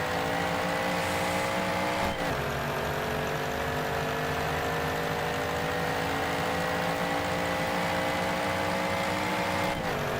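The engine of a 1927 Delage 15S8 racing car on a track runs loud and continuous at steady revs, with brief shift breaks near the start and end.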